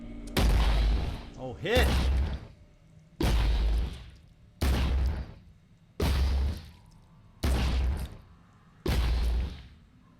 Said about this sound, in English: this is where we try and see what a rage burst does with this weapon